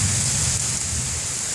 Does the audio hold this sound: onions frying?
no